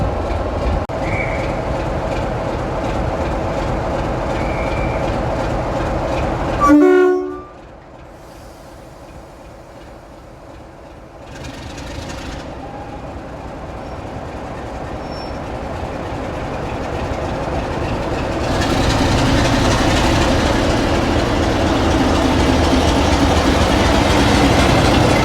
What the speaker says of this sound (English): Waiting for this class 33 to depart from Loughborough. It's noisy, old, noisy